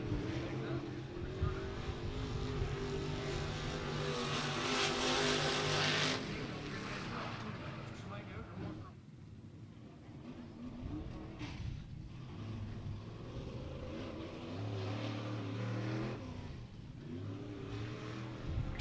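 Race cars run laps during qualifying for local classes at Beckley Motor Speedway, their engines droning steadily at a distance and rising and falling as they pass, beneath continuous announcer talk.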